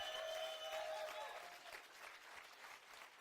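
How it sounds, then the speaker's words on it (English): Applause from a crowd at a StarCraft II tournament final, a dense patter of clapping at a distance, fading slightly after a brief whistle-like tone at the start. "Would everybody please give a really big round of applause to PartinG?"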